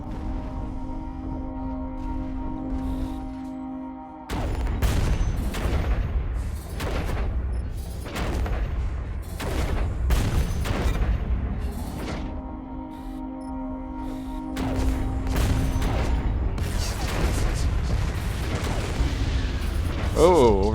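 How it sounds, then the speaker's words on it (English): Heavy gunfire and booming blasts aimed at a battleship in the mech shooter Hawken, dense repeated bursts and explosions over a humming engine tone, with a voice talking through parts. "They're probably all shooting at it right now."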